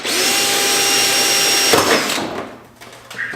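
A power drill bores into a fiberglass fender with a steady high whine, then slows and stops partway through, followed by a short rustle and a brief faint whir.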